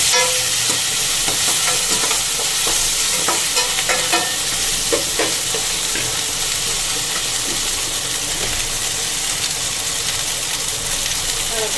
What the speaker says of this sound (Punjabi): ਦੋ ਚਮਚ ਅਦਰਕ ਲਸਣ ਪਾਇਆ ਮੈਂ ਤੇਲ ਨੂੰ ਤੇਲ ਦੇ ਵਿੱਚ ਹੀ ਕਰ ਲਾਂਗੇ